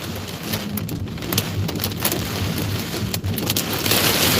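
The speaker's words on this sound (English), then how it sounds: "Just blinding rain, just sheets and sheets of blinding rain." Heavy blinding rain lashes down in sheets during a severe Mississippi thunderstorm with hail, a dense, steady roar that stays loud and unbroken throughout.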